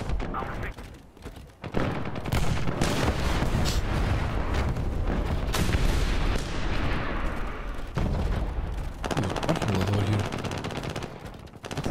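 Loud, sustained firing in War Thunder from an assault gun, heavy booming rounds and rattling bursts blending into a dense roar, with someone speaking briefly over it.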